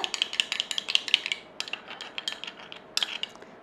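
A spoon clinks and scrapes rhythmically against a bowl while mixing a honey face pack, a quick run of close, bright taps that pauses briefly and resumes.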